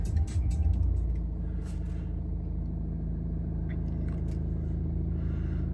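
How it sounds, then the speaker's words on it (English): A 2015 BMW 320d M Sport automatic diesel fires up with a brief starter churn and settles into a steady low rumbling idle, close and unaccompanied by talk. "Let's just give the car a start, show you there's no warnings"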